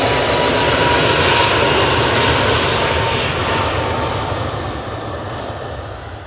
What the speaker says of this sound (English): Jet2, A380 Neo now on the roll.